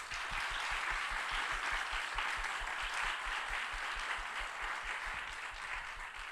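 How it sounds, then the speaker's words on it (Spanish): A lecture audience at a Valparaíso literary event applauds author Gabriela Wiener. The clapping is steady and sustained, with many hands at moderate distance and no voices. "así que un aplauso para ella"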